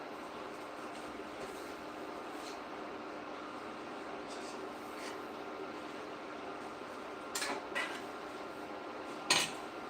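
A sugar mixture is stirred in a pot while making sev. A steady low background rumble continues throughout, and a few metallic clinks and scrapes stand out near the end.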